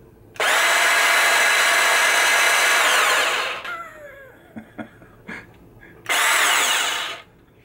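A Makita 18V 4Ah cordless handheld bandsaw runs loud and close in two bursts, a long roar of about three seconds and a shorter one a few seconds later, with light handling clicks between.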